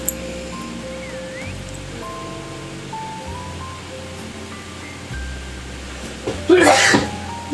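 A single sneeze bursts near the end, loud and breathy, over a quiet background of game music tones and hiss while streaming and playing Roblox.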